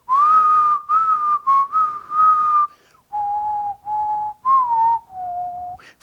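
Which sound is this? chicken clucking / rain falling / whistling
whistling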